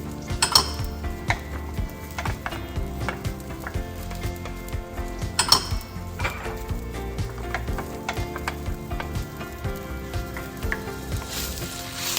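Braised pork ribs in a pot of water and sauces, stirred with a utensil that scrapes and clinks against the pot in a steady rhythm over a constant sizzling bubble, close by and with no talk.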